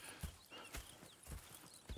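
Horse hooves clip-clop in a steady walking rhythm in Red Dead Redemption 2, quiet and close, with no voices over them.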